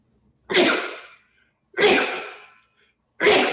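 Three sharp sneezes in a row, each a sudden loud burst that trails off, spaced about a second and a half apart with quiet between.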